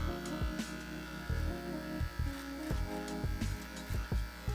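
Electric hair clippers buzz steadily while trimming and fading a beard at home, a close, continuous motor hum broken by short bursts and pauses as the blade passes through the hair.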